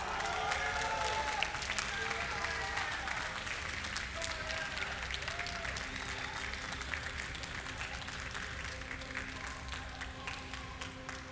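Sustained crowd applause at a DreamHack gaming tournament final for the winning team, a broad steady wash of many hands clapping for over ten seconds, easing slightly toward the end, with faint voices beneath.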